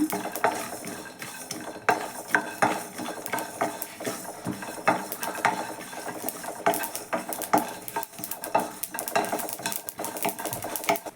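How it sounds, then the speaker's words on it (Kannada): White sesame seeds fry in a pan while a spoon stirs them, giving a close, busy run of scraping, rattling and metallic clinks with a soft crackle underneath. "ಇದು ಒಂದು ಸ್ಪೂನು ಎಳ್ಳು ಹಾಕ್ಕೊತ ಇದ್ದೀನಿ, ಬಿಳಿ ಎಳ್ಳು. ಇದು ಸ್ವಲ್ಪ ಫ್ರೈ ಮಾಡ್ಕೊಳ್ಳೋಣ."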